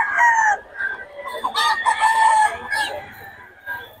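Roosters crow loudly and chickens cluck close by among a black hen and other fowl at a market, with a busy, noisy background.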